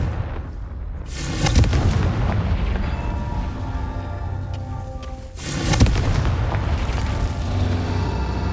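Deep booming explosions from the Confringo fire spell in Hogwarts Legacy: two heavy blasts a few seconds apart, each with a rumbling tail, loud against a steady low game ambience.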